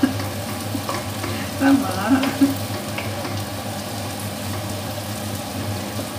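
Vegetables stir-fry in a pan with a steady, close sizzle and occasional stirring clinks, while a voice speaks briefly under the frying.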